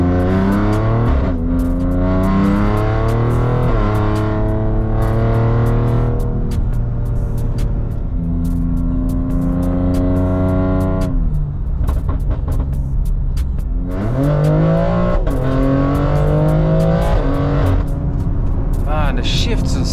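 A tuned 830 bhp BMW X3 M's exhaust roars as it accelerates repeatedly, pitch climbing through gears with pauses, loud and close, a voice talking over it.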